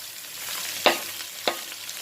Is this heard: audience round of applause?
no